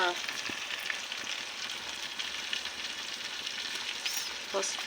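Ginger garlic paste fries in a pan for a chicken curry, a continuous, moderately quiet sizzle with crackles and the occasional scrape of stirring.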